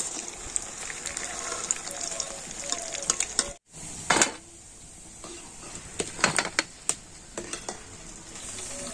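Puli pitha dumplings fry in hot oil until deep red-brown, giving a constant sizzle broken by scattered clinks and scrapes of a utensil turning them in the pan.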